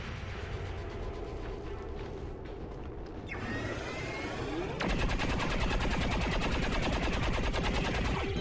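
Gunfire in the tactical strategy game XCOM 2: a mechanical clatter first, then a sustained, rapid automatic burst that grows louder and keeps going steadily to the end.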